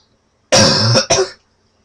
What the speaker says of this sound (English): let me cough real quick.